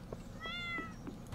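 A single cartoonish cat meow from the farming game Stardew Valley, quiet and clear with a rising-falling tonal shape lasting about half a second, faint clicks around it.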